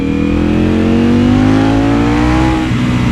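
A Ducati Panigale V4 Speciale motorcycle accelerates out of a curve from around 5000 rpm, its V4 engine roaring loud and near with a steadily rising pitch.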